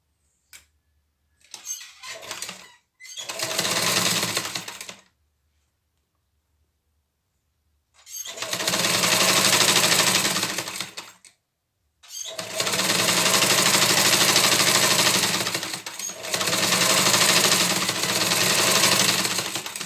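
A sewing machine stitching fabric patches for a 3D face mask runs in several close, steady bursts separated by pauses, the longer runs whirring continuously for a few seconds each.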